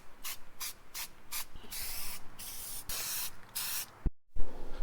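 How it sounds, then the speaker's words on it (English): Short bursts of aerosol spray coat the mounting bolts for a Toyota bed rail anchor system, several quick hisses followed by longer sustained sprays, close and fairly quiet, ending with a brief pause and a soft knock. "also spraying the mounting bolts"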